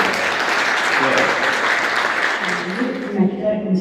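An audience at a book presentation applauds steadily, a dense and loud wash of clapping that thins and fades toward the end, with faint voices underneath.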